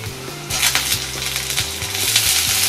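Eggplant and fenugreek sauté in hot oil with a steady close sizzle, broken by a few rhythmic scrapes of a stirring spoon against the pan.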